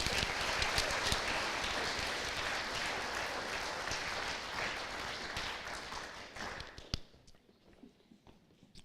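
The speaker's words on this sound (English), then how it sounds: "Can we please have a round of applause for these outstanding seniors?" An audience at an FFA banquet applauds seniors with dense, steady clapping for about six seconds, then it thins out and fades to a few scattered claps.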